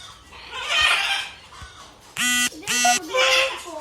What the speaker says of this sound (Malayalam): ഇത് കോഴിയാണ്.